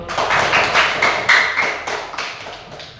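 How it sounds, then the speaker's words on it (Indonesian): Applause in a classroom after a group presentation, a burst of many hands clapping that swells and then slowly thins over a few seconds, fairly loud and close. "Oke, aplaus dulu."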